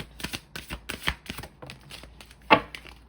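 Tarot cards being shuffled and drawn from the deck, a quick run of crisp flicking riffles and slides ending in one sharp card snap, close and alone with no talking.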